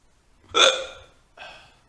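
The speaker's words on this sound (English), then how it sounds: "I accept the hiccup you have sent me as a sign of your presence" Two distinct hiccups, the first loud and close, the second softer about a second later, each a short voiced gulp with no talking around them.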